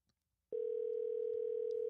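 After a brief silence, a steady telephone dial tone starts abruptly and holds unbroken and clear at one pitch while a call to a friend is placed.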